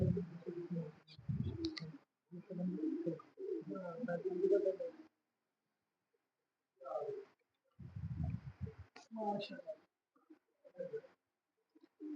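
Soft, low pigeon coos come in repeated bursts with short pauses between, close by and fairly quiet, with no talking.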